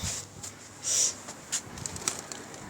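A pigeon coos softly outdoors, a few short faint calls over a light background hiss.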